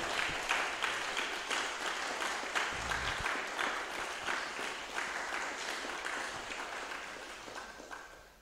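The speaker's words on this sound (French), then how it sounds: "On peut les applaudir." A church congregation applauds after a blessing, crisp overlapping claps from a moderately close crowd that run steadily and then slowly thin and fade toward the end.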